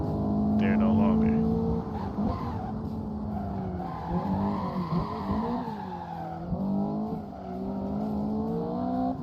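Tires squeal and skid through a long slide in the Assetto Corsa racing game as the engine drones and revs, with someone talking excitedly over the sound.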